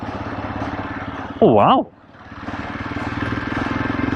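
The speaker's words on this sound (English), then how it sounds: "The engine isn't knocking at 28, 26." Hero Xpulse 200 motorcycle engine lugging along in fifth gear at low speed, a steady close drone that swells briefly as the throttle opens, with someone talking over it.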